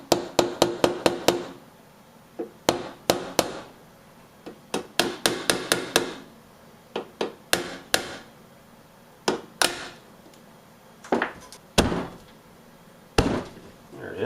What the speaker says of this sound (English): I will take my trusty little hammer and see if we can knock these in